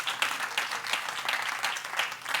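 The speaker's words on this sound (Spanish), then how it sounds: "Den un aplauso fuerte a nuestro gran Dios." Steady applause from a church congregation, a dense patter of many hands clapping together at moderate volume, continuing without pause.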